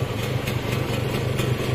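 Kawasaki KR 150 SE motorcycle engine idling steadily, a loud, close, continuous low throbbing drone with no pauses and no talk.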